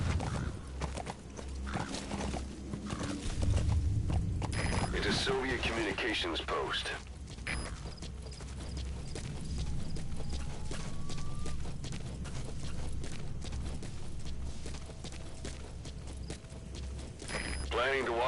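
Horse hooves clip-clopping at a steady gait in Metal Gear Solid V: The Phantom Pain, with a neigh and other game effects mixed in, while someone talks over it.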